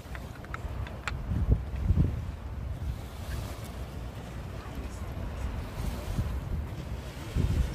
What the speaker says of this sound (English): Sound of the water, right?